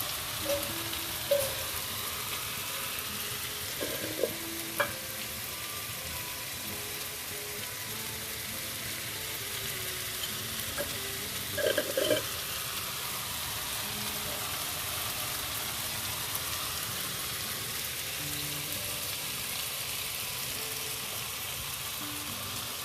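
Tomatoes and red chili spices cooking in oil for oats daliya, a soft continuous sizzle and bubbling at moderate distance, with a few brief clinks and stirring knocks scattered through it.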